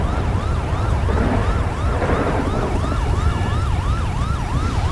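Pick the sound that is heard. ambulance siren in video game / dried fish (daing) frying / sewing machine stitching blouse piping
ambulance siren in video game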